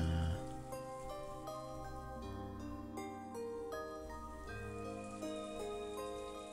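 Soft, steady rain falls in a rose garden maze in the Umineko visual novel, a quiet continuous patter beneath a melodic musical score, with no talking.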